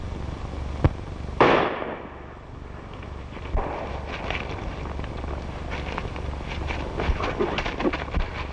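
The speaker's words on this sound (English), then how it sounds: "I tell you, I heard a shot." A single gunshot cracks once in a 1936 western film, a sharp loud report followed by a short decay, set against a steady low hum and faint clip-clop and scuffling.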